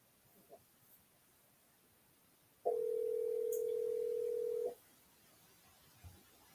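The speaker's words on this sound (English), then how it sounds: "Let's call George and he can participate from the phone" A steady telephone tone sounds for about two seconds while a call is placed by phone, loud and even against quiet room noise, with faint rustles before and after.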